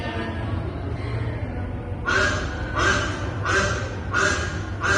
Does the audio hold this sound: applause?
no